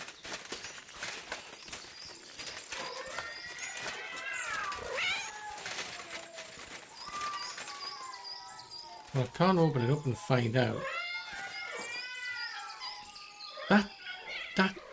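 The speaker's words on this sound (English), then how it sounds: "That sounds like a lot of cats." Many cats meowing at once in Kingdom Come Deliverance 2, a dense chorus of overlapping wavering meows and caterwauls, fairly close, with someone talking over them.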